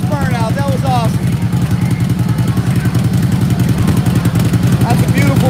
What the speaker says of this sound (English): That's a beautiful motorcycle.